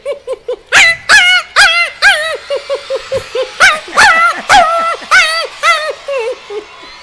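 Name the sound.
person imitating a hungry puppy crying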